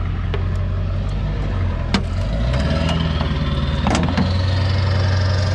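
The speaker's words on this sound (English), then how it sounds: "It's a 10 horsepower diesel single cylinder and nothing else really under here." A 10 horsepower Hatz single-cylinder diesel engine idles steadily up close, a low continuous thrum with a few sharp knocks and clanks over it and no voices.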